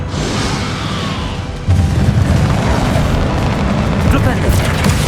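A burst of magical spell effects in the Hogwarts Legacy video game, with loud booming impacts and crackling energy during a fight, a sudden louder blast partway through, and a voice shouting over the action.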